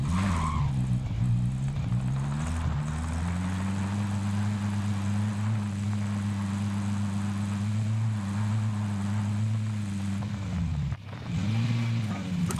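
Vehicle engine drones steadily in Call of Duty: Warzone gameplay, rising and falling with tires skidding and squealing, loud and continuous with a brief dip near the end.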